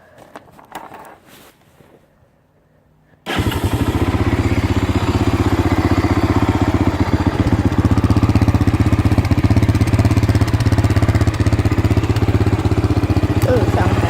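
A Honda 300EX ATV with its stock exhaust fires up after a few quiet seconds of faint voices, then runs loudly and steadily at a throbbing idle, close by, for the rest of the clip.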